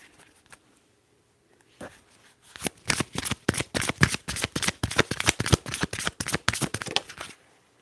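Tarot cards riffled and shuffled close up, a quiet tap or two followed by a rapid, crisp run of flicking card snaps that stops abruptly.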